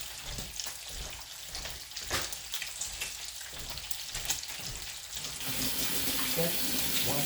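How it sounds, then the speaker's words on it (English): Hands washed under a running kitchen tap while cooking breakfast, a steady hiss of flowing water with rubbing splashes, close by, swelling louder and fuller toward the end. "Make sure I clean hands."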